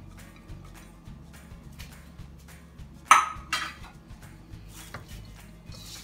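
Shredded cabbage tipped into a pan of spring roll filling and stirred, giving a sharp clatter of utensil on pan midway, then soft scraping and a few light knocks, fairly close over a quiet low hum.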